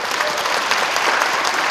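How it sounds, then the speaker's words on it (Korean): A church congregation at a 74th anniversary worship service claps together in loud, dense, continuous applause throughout the short moment. "큰 영광의 박수 돌려드리겠습니다"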